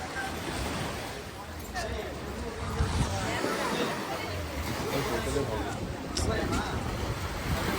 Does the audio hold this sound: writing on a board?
no